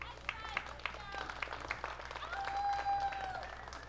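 A crowd applauds a shot at a 10-ball pool tournament in Las Vegas. The clapping is moderately loud and continuous, with a commentator talking over it.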